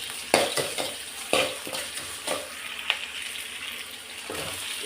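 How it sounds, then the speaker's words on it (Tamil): Onions and curry leaves sautéing in a hot pan, with a steady sizzle broken by sharp scrapes and clinks of a spoon stirring against the metal. "கருவேப்பிலையும் வெங்காயமும் போட்டுக்கிட்டேன். போட்டு நல்லா வதக்கிக்கிடலாம்."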